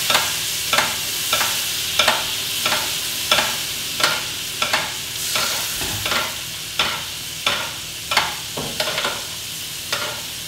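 Fillet steak basted with butter in a hot pan: steady loud sizzling with a regular rhythm of spoon scrapes and splashes about every half second, close up and with no voices.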